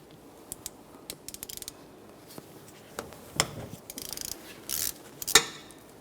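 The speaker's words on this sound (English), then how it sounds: "we're going to remove our 14mm headed banjo bolt" A hand ratchet clicks in quick bursts while loosening a 14mm banjo bolt on a front brake caliper of a 2011-2020 Toyota Sienna, with several sharp metallic clacks and a scrape mixed among the close ratcheting.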